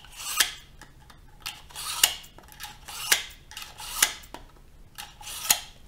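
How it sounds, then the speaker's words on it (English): Scissors snip repeatedly through matted angora wool, five or six crisp slicing cuts at a steady, roughly one-per-second rhythm, close and clear with no talking. "You really want your scissors to slice through the wool."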